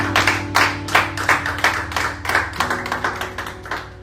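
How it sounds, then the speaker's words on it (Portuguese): A church congregation at Igreja de Nova Vida do Catete applauds during a service, with dense, sustained clapping close to the microphone over a steady musical backdrop, keeping a lively rhythm throughout. "aplauda o Senhor com o seu melhor"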